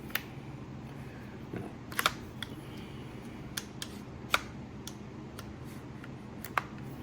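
A Smith & Wesson FPC carbine fitted with a buffer cushion is handled, giving a few sharp, close metallic clicks and clacks spaced irregularly over quiet background, one louder snap as the bolt locks open.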